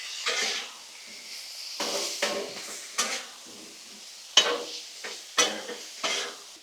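Beef and broccoli fry on a Blackstone griddle with a soft background sizzle, broken by sharp scraping strokes of a metal spatula at irregular intervals, close by and with no voices.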